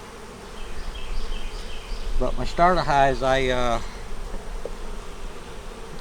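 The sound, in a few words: honey bees buzzing at a hive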